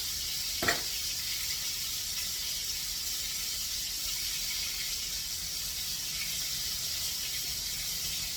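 Beef steak with onions sizzling in a pan, a steady soft hiss of frying throughout, with one brief click near the start.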